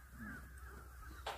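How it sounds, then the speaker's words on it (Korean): Crows cawing near an old fortress site, a short harsh caw rising clearly over a low outdoor hum, moderately close. "까마귀 소리도 요란합니다."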